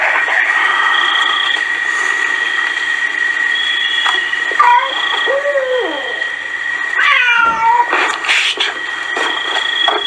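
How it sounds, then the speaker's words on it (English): A cat meows outdoors at night, several loud drawn-out wavering calls near the microphone, spread across a steady high-pitched insect drone, with a sharp knock partway through. "Good one, kitty."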